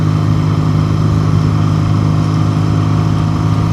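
A 1962 Triumph Tiger 90 motorcycle engine runs steadily and loud at close range, with a constant droning hum and no talking.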